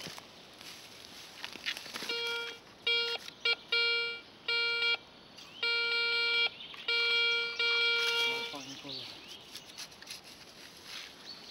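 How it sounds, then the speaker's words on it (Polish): An Ace 150 metal detector beeps over a deep target in short repeated electronic tones, a series of clipped pulses followed by a longer sustained beep, with faint rustling underneath. "znalazłem inny sygnał, fajnie pipczy, tylko że jest głęboko"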